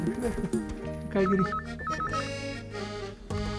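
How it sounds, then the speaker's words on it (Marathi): A household telephone rings in a Marathi TV serial, with a repeating electronic ringtone pattern over background music and brief speech. "काय आहे फोन वाजतोय."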